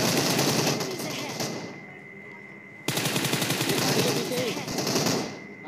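Rapid automatic gunfire bursts from a PUBG Mobile match, two long sustained volleys separated by a brief lull, with a player's voice talking over the shooting.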